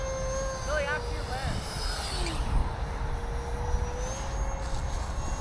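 A high-pitched jet engine whine from a radio-controlled model jet sweeps past with shifting pitch over a constant outdoor rumble, passing fairly close and then receding.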